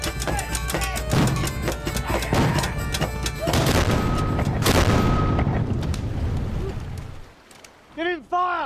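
A ship's cannon broadside fires in a series of heavy booms and rumbling blasts, loud and reverberant, fading into a long roar before a final low thump.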